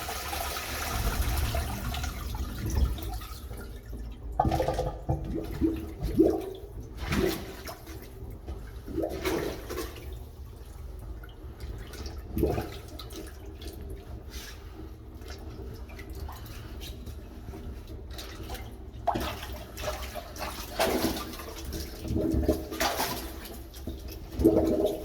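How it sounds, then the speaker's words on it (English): Blocked toilets flushed over and over in a London call-out, loud close gushes of rushing water recurring every few seconds, then the hiss and trickle of cisterns refilling between flushes. "let the toilets fill up with water by flushing them"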